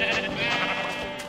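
A sheep in the Minecraft video game gives a single short, loud bleat, heard up close with no talking over it.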